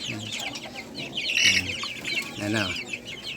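Two-month-old Sebright chickens cluck in a small backyard coop, with short bursts of clucking and chirping close by. Someone speaks briefly among the birds.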